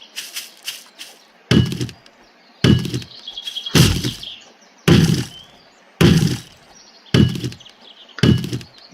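A fire axe chopping in the survival game 7 Days to Die, about ten loud, heavy thunks in a steady rhythm, each followed by a short crunchy decay, with faint birdsong in the quiet gaps.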